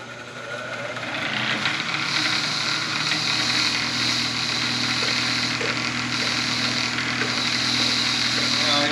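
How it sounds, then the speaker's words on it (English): An old, slow-spinning grinder fitted with a soft wire wheel cleaning spark plugs, a steady motor hum with a low mechanical drone and faint scratchy brushing over the top, continuous and close. "I have this really old grinder here with this really kind of soft wire wheel on it"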